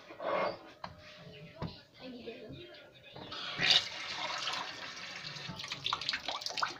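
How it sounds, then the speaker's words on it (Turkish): Water is poured into a cooking pot of vermicelli soup in a home kitchen, giving a quiet splash and trickle among faint clatter. "Azıcık su koyayım arkadaşlarım."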